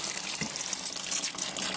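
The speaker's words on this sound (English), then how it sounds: "So let's just turn on the water." Tap water rushes through a pipe fitted with a fine watering-can rose over a bed of brewing grain, a steady close hiss of spraying water with no pauses.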